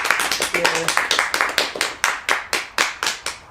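Two podcast hosts applauding themselves on set, a small cluster of close, sharp hand claps that settle into a slower steady rhythm, with brief voices near the start.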